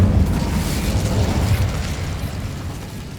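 An Incendio fire spell cast in Hogwarts Legacy gives a loud, rumbling burst of flame with a heavy low roar that slowly fades over a few seconds, and no voices are heard.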